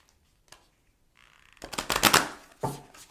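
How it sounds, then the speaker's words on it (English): Oracle cards being shuffled by hand during a tarot-style reading, a faint slide and then a burst of crisp riffling flutters with a final soft riffle, heard alone without talk. "let's get a little more information from the oracle cards."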